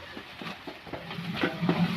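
Onion and green chilli sauté in a pan, with quick, rhythmic stirring scrapes over a soft background sizzle, moderately close and without talk.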